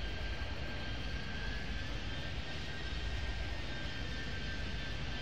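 Jet airliners in the AM3DV2 airport game at O'Hare, a continuous low, even engine roar with a faint steady whine, constant level and no talk.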